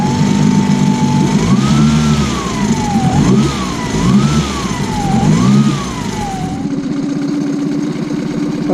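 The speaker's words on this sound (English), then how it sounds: "I'll just give it a little rev to try and burn off some of this fuel in the fuel system." Outboard boat engine, just used in saltwater, revved repeatedly to burn off fuel in the fuel system: a steady close running drone rising and falling in several throttle surges, then settling back to a lower idle near the end.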